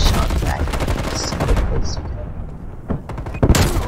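Rapid gunfire from a Call of Duty match, dense bursts of shots and impacts filling the scene, with players talking over the action and a few louder blasts near the end.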